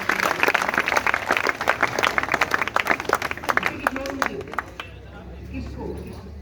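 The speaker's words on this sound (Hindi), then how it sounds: "तालियां।" A crowd claps at a government school award ceremony in Rewari Khera, dense clapping for several seconds that thins out and fades, with voices murmuring as it dies away.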